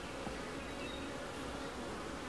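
A dense cluster of honeybees crawls across a raw, undrawn comb in an opened hive, producing a soft, continuous buzzing drone without pause or voices.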